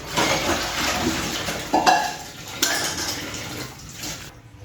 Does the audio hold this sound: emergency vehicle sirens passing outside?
no